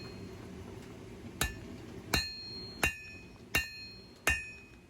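Five sharp, ringing hammer blows land about two-thirds of a second apart as bevels are forged into a bushcraft knife blade made from junk steel, each strike loud and close with a metallic ring decaying after it.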